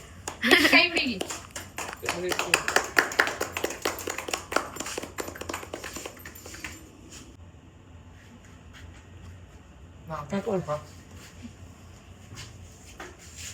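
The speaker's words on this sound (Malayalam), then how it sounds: "എന്തായാലും ഒന്ന് ക്ലാപ്പ് ചെയ്ത്" Hand clapping at a hospital gathering with a baby: a quick burst of several claps close by, mixed with talk and chatter, followed by quieter voices and another short round of clapping later on.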